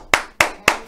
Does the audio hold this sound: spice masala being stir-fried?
no